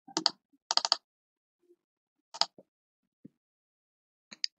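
Computer mouse clicking while working in circuit simulation software, a few crisp close clicks in small clusters with quiet gaps between.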